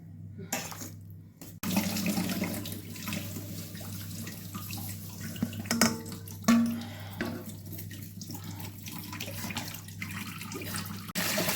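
Boiled water drains from a batch of black Kalamata olives in a steady running pour, with a close, continuous splashing wash that holds through the clip and a few brief clinks.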